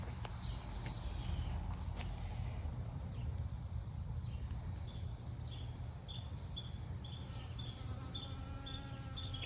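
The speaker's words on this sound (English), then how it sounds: "Get the bees buzzing around." Insects buzzing around echinacea flowers in a tropical-style garden, a soft continuous outdoor drone with high chirping tones and a faint low hum underneath, no voices.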